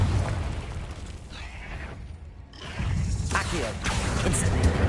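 A Confringo fire spell goes off in Hogwarts Legacy on PS5 as a burst of fiery blasts and crackling whooshes, loud and dense, dipping briefly before the next blast roars up again.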